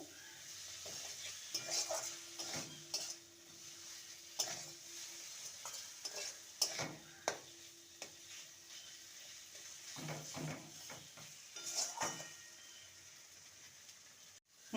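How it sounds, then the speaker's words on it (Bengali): Chhana (paneer) frying with spices in a pan, a soft continuous sizzle punctuated by irregular scrapes and taps of the spatula against the pan, quiet and close, with a brief faint hum in the middle. "মশলার সাথে ছানাকে ভালো মতন কষিয়ে নিয়েছি"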